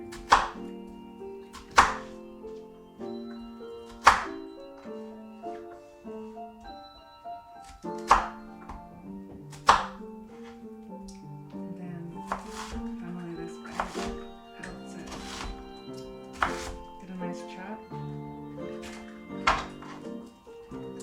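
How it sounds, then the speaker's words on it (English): A knife chops onions on a cutting board in a home cooking demonstration, with sharp, irregular thunks striking the board one by one over a steady bed of background music while a person talks. "Cutting the onions this way, and then you cut them down"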